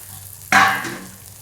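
Food in hot oil in a pan bursts into a sudden loud sizzle that crackles brightly, then slowly dies down to a softer hiss within a second.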